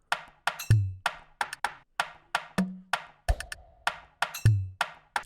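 A moombahton percussion loop plays alone, with bright ticking hits, snappy accents and occasional deep booming low notes in a bouncy, repeating groove.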